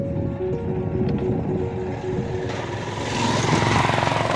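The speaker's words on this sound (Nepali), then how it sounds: "पछिबाट बाइक आइरहेको छ" A motorbike comes up from behind and passes near a hanging footbridge, its engine drone swelling louder toward the end under wind noise.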